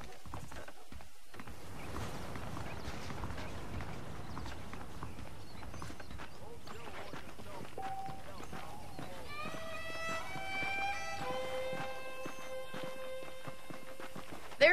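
Horses' hooves clip-clop at a walk and trot in the Western video game Red Dead Redemption, a steady rhythmic patter under game ambience, with a few musical tones rising near the end.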